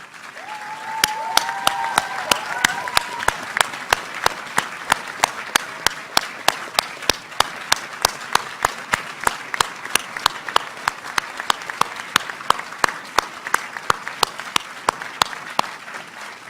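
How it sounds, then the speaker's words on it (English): Audience applause at a veterinary medicine oath and hooding ceremony, a sustained dense clapping that holds steady for the full length with sharp individual claps standing out, briefly joined early on by a faint tonal sound. "Because we want to applaud you."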